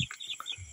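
Chickens sick with coccidiosis cluck and chirp in short, close bursts, a few quick calls within a brief moment.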